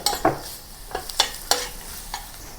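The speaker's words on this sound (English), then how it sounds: "Heat some oil in a pan and then saute the onions until it caramelized." Onions sautéing in hot oil in a pan for Japanese curry udon, with a low steady sizzle broken by about five sharp scraping stirs spaced through the moment, close and fairly loud.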